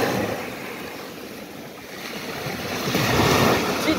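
Sea waves wash onto a sandy beach in a continuous surf hiss with wind, easing off and then swelling again near the end, with no talking.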